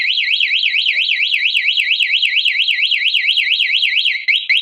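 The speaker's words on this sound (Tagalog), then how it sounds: "Nag-a-alarm siya o." A newly installed alarm sounds during an installation test: a loud electronic siren warbles up and down in rapid, regular sweeps and cuts off abruptly near the end.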